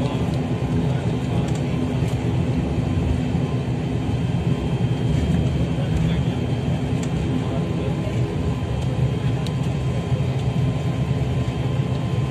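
SpiceJet Boeing jet engine with rear-mounted engines, a steady loud broadband roar and rumble sustained throughout with no talk, heard from inside the aircraft.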